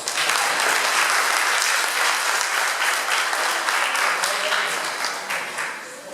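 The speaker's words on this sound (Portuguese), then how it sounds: "Vamos receber a serva de Deus com uma gloriosa salva de palmas." Loud, dense applause from a large church congregation fills the whole stretch, steady and sustained before easing slightly near the end.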